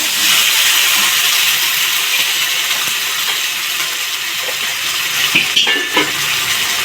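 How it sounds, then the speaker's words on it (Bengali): Steamed potatoes tipped into a hot pan set off a loud, dense, continuous frying hiss, close and steady, with a few small metallic clinks near the end and no speech. "আলুগুলো দিয়ে দিচ্ছি"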